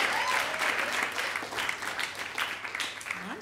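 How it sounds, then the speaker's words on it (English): A stand-up comedy audience claps steadily throughout, a dense wash of applause from a modest crowd, with faint voices underneath. "I felt someone wanting to give a round of applause"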